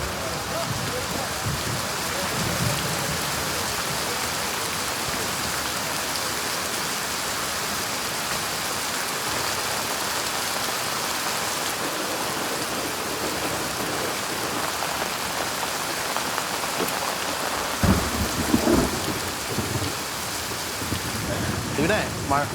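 Heavy rain falls steadily at an outdoor gathering, a dense continuous hiss of drops on surfaces with no clear thunder, and a few faint knocks near the end.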